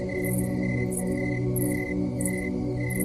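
Crickets chirp at night in short, evenly spaced trills over a steady drone, moderately loud and with no voices.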